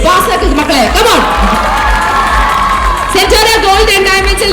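Large crowd cheering and shouting at a celebrity's inauguration of a Centora Gold and Diamonds showroom, with whoops and children's shouts rising and falling over a steady hum, and a voice talking through it.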